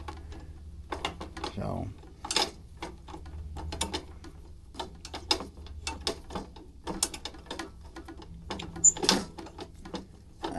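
Bumpers being tightened on a Keene 140S drywasher give sharp, irregular ratcheting clicks and metallic ticks at close range, with a brief spoken word in the background.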